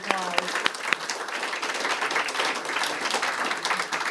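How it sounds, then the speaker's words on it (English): An audience breaks into warm applause, many hands clapping steadily and fairly loudly for several seconds, with a few sharp claps standing out at the start. "let's give her another round of applause"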